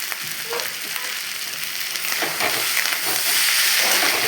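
Fish coated in salt, turmeric and egg fries in a pan with a dense, continuous crackling sizzle that grows slightly louder toward the end, close and without any talk.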